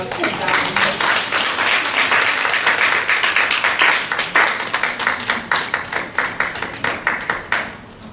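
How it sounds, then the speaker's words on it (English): An audience applauds loudly, the dense clapping gradually thinning into scattered individual claps before fading out. "Would you give a round of applause to Dr. McCormick?"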